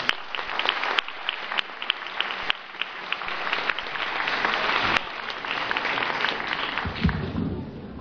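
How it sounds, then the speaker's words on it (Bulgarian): A stage audience gives a singer sustained, dense applause before she opens with a song. The clapping is steady and loud throughout, with a few sharper individual claps standing out from the crowd. "а нека нейна интродукция бъдат вашите аплодисменти"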